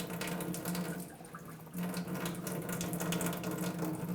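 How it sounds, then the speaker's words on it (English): Water running steadily from an electric water machine dispenser, a continuous close splashing flow into a container with no talking. "Now I'm going to get from one of the electric machines."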